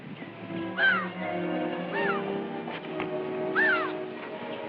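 A crow caws three times at moderate distance, each call a short, harsh, descending croak, over a steady low background hum.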